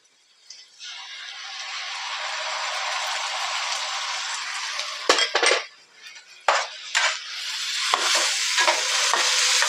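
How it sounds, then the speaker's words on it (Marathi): Tomato paste sizzles and fries in a pan with onions for chicken kheema masala, a steady loud hiss broken near the end by several sharp scraping stirs and utensil clinks. "आता आपण ही टोमॅटोची पेस्ट केलेली टाकूया"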